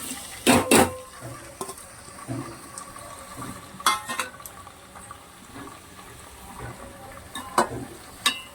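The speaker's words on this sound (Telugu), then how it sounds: "పచ్చిమిరపకాయలు, ఉల్లిపాయ, కరివేపాకు అయితే వేసేస్తున్నాను." Green chilies, onion and curry leaves dropped into hot oil, a few sharp clattering bursts as they hit the pan followed by scattered sizzling crackles and stirring clicks, close by without talk.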